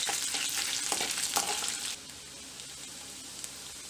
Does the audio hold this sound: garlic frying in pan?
yes